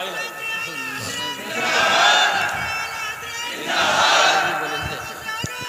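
A large crowd at a religious speech shouts slogans in two loud, swelling bursts of massed voices that rise, hold and fade, with a preacher's voice heard between them.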